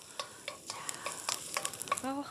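Oil and seasonings stir-fried in a pan before eggplant goes in, brief sizzling broken by quick clinks and scrapes of a utensil against the pan, fairly close and moderately loud.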